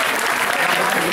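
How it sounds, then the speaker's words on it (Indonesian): Brief burst of audience applause at a religious gathering, loud, dense clapping from a nearby crowd lasting about a second. "tepuk tangan"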